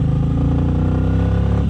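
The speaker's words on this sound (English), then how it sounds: "you should still hear a little bit of the engine noise." Motorcycle engine running steadily while riding, a continuous low droning hum with harmonic rumble picked up from a handlebar-mounted setup, loud and unbroken throughout.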